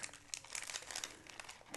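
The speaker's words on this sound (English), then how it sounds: "It's a nice little wax paper" Wax paper crinkles and rustles up close while a postal package is unpacked, a quiet, continuous run of crisp crackles with small sharp peaks, no voices.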